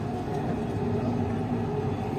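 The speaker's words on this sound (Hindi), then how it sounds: "दुबई की मेट्रो में सफ़र करने का बहुत ही मज़ा आया" Steady rumble and rattle of a Dubai Metro train in motion, heard from inside the carriage as a continuous, fairly loud low drone with faint rhythmic clatter, no voices.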